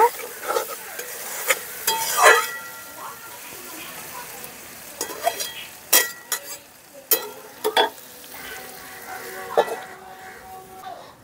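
Spiced masala with fried potatoes sizzles in a pan while being stirred, with repeated sharp scraping clacks of a spatula over a steady frying hiss.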